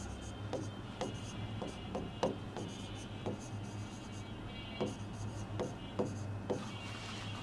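A teacher writes with chalk or marker on a board during a Bengali physics lecture on Newtonian mechanics, making soft, scratchy strokes with sharp taps at irregular intervals over a low room hum, and no one speaks.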